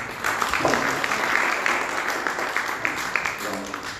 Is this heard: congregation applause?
yes